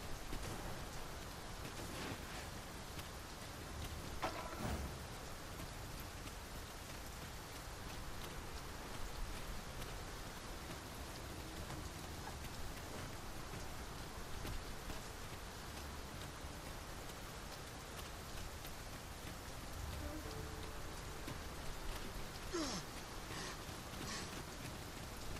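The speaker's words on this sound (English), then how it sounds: "It is really coming down. We can push through a bit of rain" Steady heavy rain in the video game Dragon's Dogma 2, a dense continuous downpour hissing evenly throughout with no voices.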